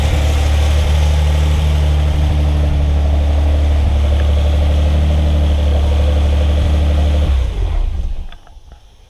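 A Nissan 300ZX twin turbo engine runs at a steady, loud idle with a deep drone, then cuts off near the end, leaving quiet clicks.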